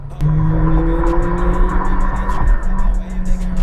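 McLaren 720S supercar in track mode accelerating hard on a circuit, its engine note a loud, continuous drone climbing steadily in pitch with a faint tire squeal throughout the run.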